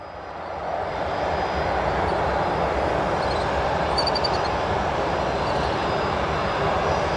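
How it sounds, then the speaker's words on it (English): An SAS airliner's jet engines roar steadily at O'Hare Airport during departure on runway 10 left, a broad, loud rumble that swells in the first second and then holds strong throughout. "SAS lining up for runway 10 left departure"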